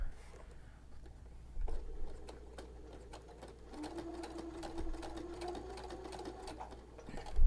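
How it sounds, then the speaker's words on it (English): A sewing machine fitted with a tape stitching foot starts after a brief pause, then runs as a steady close whirr with fast, even mechanical ticking. "we are ready to actually sew."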